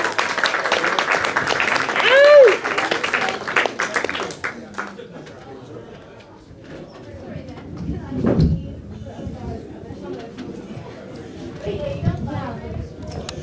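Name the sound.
audience applause for comedian at open mic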